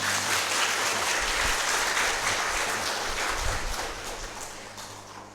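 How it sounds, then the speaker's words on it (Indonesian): A church congregation applauds at the blessing and opening of a new church building, with steady, dense clapping for several seconds that gradually thins out toward the end. "Coba tepuk tangan Henry ini."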